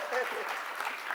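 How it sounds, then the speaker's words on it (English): Conference audience applauding, a short burst of steady, fairly even clapping from a crowd in a hall. "Sir, give an applause to her."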